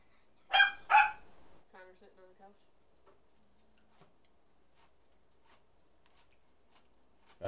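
Two loud, close dog barks come in quick succession near the start, followed by softer yelps and faint ticking in an otherwise quiet indoor room.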